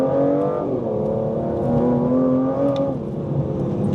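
An Aston Martin Vanquish 2025 supercar accelerates hard, its engine note rising in pitch through a loud, close, continuous roar with steady harmonic whine, no talking over it.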